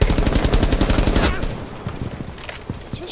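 Rapid, loud shotgun blasts from gameplay in the shooter Rainbow Six Siege, a dense burst of repeated shots for over a second, then a few scattered quieter reports.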